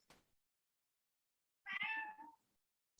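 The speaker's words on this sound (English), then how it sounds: "I'll let my cat screaming act as the slide transition" A single loud, drawn-out cat yowl sounds close by, framed by brief faint noises and near silence.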